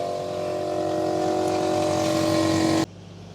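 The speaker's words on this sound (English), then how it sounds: "let's get some air in the compressor" A motor drones at a steady, even pitch close by, then cuts off abruptly into near silence.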